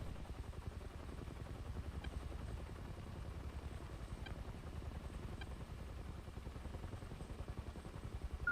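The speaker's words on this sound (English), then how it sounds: "since we're playing with the helicopter" A helicopter in War Thunder, its rotor chopping in a steady rapid rhythm, a continuous low thudding drone at even volume throughout.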